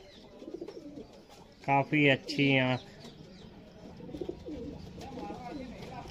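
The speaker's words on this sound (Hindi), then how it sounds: "ये बाजरा कबूतर" A bajra pigeon gives three loud, close cooing calls in quick succession, with someone talking softly before and after.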